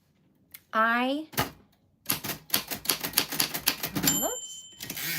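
Rapid clacking keystrokes of a vintage typewriter in a steady burst, with a ding of the carriage bell near the end, following a short vocal sound.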